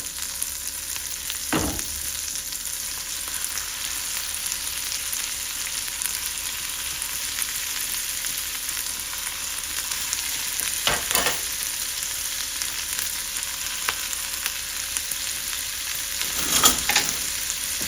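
Shrimp fry in butter with garlic, a steady soft sizzle lasting throughout, with a few brief louder scrapes or clatters from the pan now and then.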